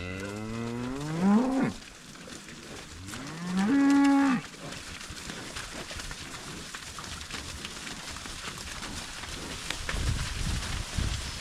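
Cattle being driven to a new pasture on a wet day give two loud, drawn-out moos close by, followed by a quieter stretch of low rustling and movement.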